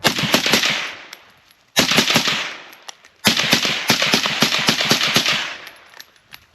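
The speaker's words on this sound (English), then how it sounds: "we have the suppressor on it, and we're on setting 1, and we're just gonna finish out the mag" A suppressed Ruger SFAR rifle fires steel case ammo in three rapid bursts of sharp, loud shots, with short pauses between the strings and nobody speaking.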